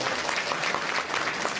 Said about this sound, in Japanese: みんな横井正弘に応援の拍手してあげてくれ。